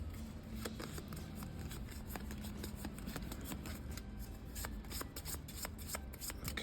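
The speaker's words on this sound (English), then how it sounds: "So we shuffle." Cards shuffled close up: a steady riffling patter of quick, papery clicks running continuously for several seconds.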